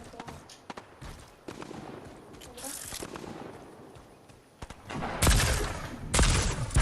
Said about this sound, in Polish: ja strzelam do kamienia